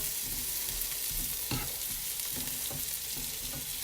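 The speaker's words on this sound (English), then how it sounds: "And again, I'm just stirring them up." Crispy sweet potatoes fry in a pan and are stirred, a quiet continuous sizzle with rhythmic scraping and shuffling of the pieces close by.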